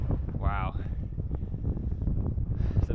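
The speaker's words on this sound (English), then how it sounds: "it's quite windy now." Steady gusty wind rumbles and buffets the microphone on high ground in the Brecon Beacons, loud and close, with a brief whistling tone near the start.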